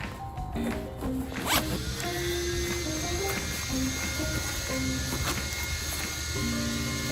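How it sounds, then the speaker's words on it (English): Close, distinct rasps of a zipper being pulled open along the collection bag of a WORX TRIVAC 12 amp electric leaf vacuum, over a constant loud background roar. "And then you can just zip it open like this."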